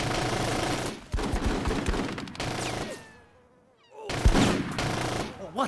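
Rapid bursts of automatic gunfire rattle through a Full Spectrum Warrior Ten Hammer military game battle, loud and dense, dropping to a brief lull before the shooting resumes.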